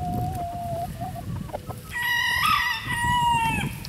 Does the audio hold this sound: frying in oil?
no